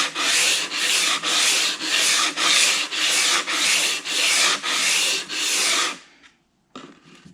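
Long sanding strokes across a Richlite fretboard being shaped to a 14 inch radius, about ten loud, even rasping swipes in a steady back-and-forth rhythm, close up, then a brief pause and a faint scrape.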